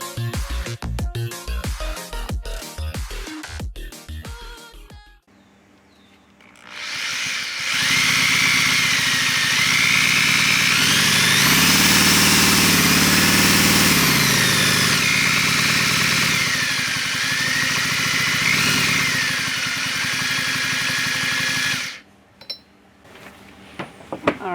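Stihl-based homemade four-cylinder engine running at low RPM, a steady loud mechanical drone that starts after a few seconds of clinking noises and holds for about fifteen seconds before cutting off abruptly.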